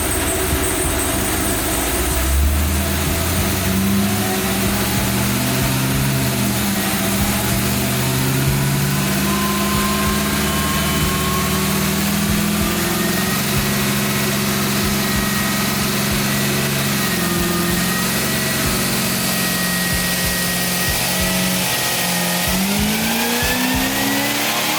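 Cadillac CTS-V Coupe engine on a dyno with nitrous, loud and sustained, revving through repeated rising sweeps before easing off and climbing again at the end, with no voices.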